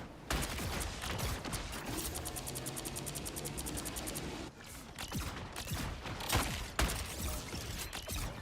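Rapid machine gun fire from the Punisher character in a video game crackles in a fast, even burst, followed by scattered mechanical clicks and further shots.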